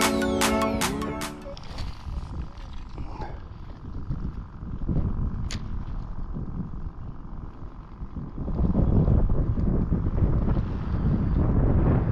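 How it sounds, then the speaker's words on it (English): Wind blowing across a lake while fishing for spawning crappie, a steady low rumble of gusts on the microphone that swells stronger near the end, with a few sharp clicks at the start. "Wind's blowing back towards us a little bit, or a good amount"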